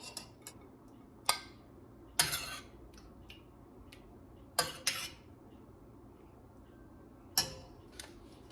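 Plates are served with BBQ ribs, stove-top baked beans and coleslaw, with sparse sharp clinks of utensils on dishware and quiet pauses between each knock, close by and without talk.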